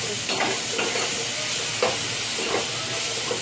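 Green chillies fry in oil in a pan for a tangy Bhola fish and tamarind curry, giving a steady close sizzle with soft scraping stir strokes every second or so.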